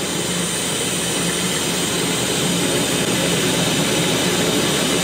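A wire EDM (wire erosion) machine blasts a strong water jet for flushing, making a loud, steady, close hiss that runs unbroken the whole time with no talking.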